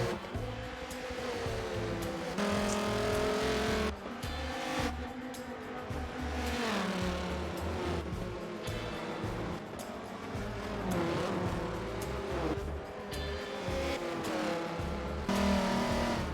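Race cars slide and roar around Circuit of the Americas in Forza Motorsport 7, engines revving and shifting with tire squeal, continuous and loud with no talk.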